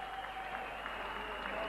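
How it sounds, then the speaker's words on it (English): A boxing crowd applauds boxer Paul Briggs after a bout, a brief steady patter of clapping with some faint voices and a thin tone running underneath. "Paul, come on, give Paul a big round of applause."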